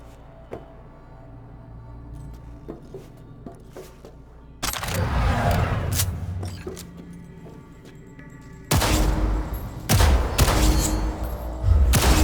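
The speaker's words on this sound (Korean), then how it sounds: "일단 전술 표적으로 사격 연습을 해보자" Gunfire rings out at shooting-range targets in Cyberpunk 2077, with scattered faint clicks at first, then loud bursts of rapid shots in several close, heavy volleys with brief pauses between them.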